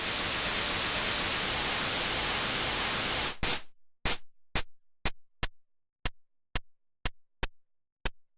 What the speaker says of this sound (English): This is easy access to white noise for low-budget hi-hats or white noise sweeps